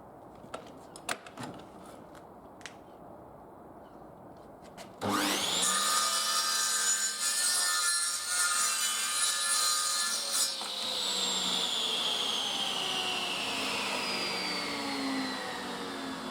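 A power saw cuts composite boarding for metal driveway gates. A few faint knocks come first, then a loud, steady cutting whine runs for about ten seconds and fades into a slowly falling spin-down, with no voices.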